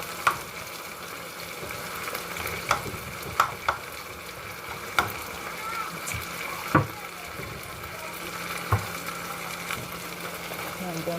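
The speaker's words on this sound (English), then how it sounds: "Now add my mackerel inside, guys. I'm gonna just do it, gonna mash it a little." Mackerel sizzling in a pan as it is mashed and stirred, steady frying hiss broken by sharp clacks of a utensil against the pan at irregular intervals.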